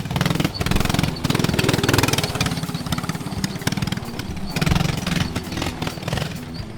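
A homemade go-kart engine built from junk runs hard during a speed test, its loud, rough, pulsing buzz rising and dipping close by with no talk over it.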